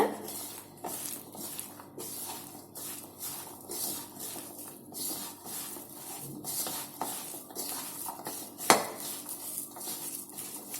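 Green peas vada dough with salt and gram flour is mixed in a bowl, giving steady soft scraping and clinking with one sharp knock near the end, no voices.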